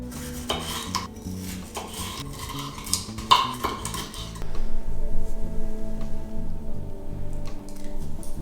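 Steady knife strokes on a cutting board, repeated chops cutting a bell pepper into large cubes, with a continuous low background hum growing louder midway.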